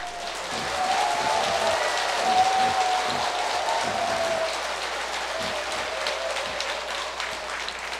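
A Buddhist dharma assembly claps together in a steady, even wash of applause lasting several seconds. The sound is moderately distant and evenly spread, with a faint voice underneath early on.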